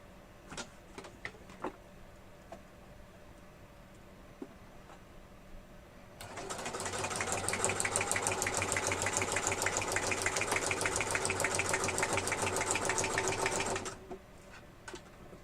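A sewing machine runs in one continuous rapid stitching burst for about eight seconds, close and loud, after some faint clicks and taps.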